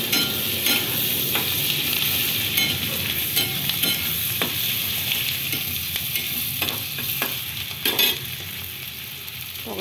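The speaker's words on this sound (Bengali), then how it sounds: "পেঁয়াজ দিলাম" Onions frying in a pan for egg curry, with a constant close sizzle broken by repeated scraping stirs of a spatula against the pan, no talking.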